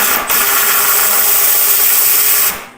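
Ratchet turning a bolt on a motorcycle lower fairing, a loud, close, continuous rapid clicking lasting a couple of seconds before stopping abruptly.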